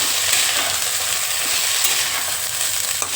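Potato and eggplant pieces frying together in hot oil while being turned over: a dense, continuous sizzle close up, with faint scraping of the stirring utensil throughout.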